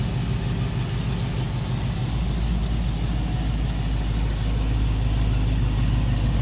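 A Cadillac CTS-V sits idling in park, its engine holding a steady, even low rumble with a faint rhythmic pulse, close and continuous with no voices.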